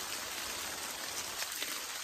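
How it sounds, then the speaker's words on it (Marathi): Steady rain falling on a farm in India, a dense even hiss with scattered drops striking nearby surfaces, continuous and moderately quiet with no voices. "कधी पाऊस चालू आहे"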